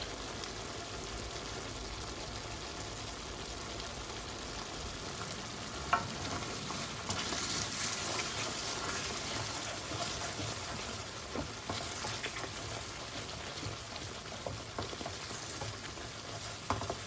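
Chicken rezala curry sauce sizzles and caramelises in a pan: a soft, steady frying hiss with a few faint scrapes and clicks, and no voices.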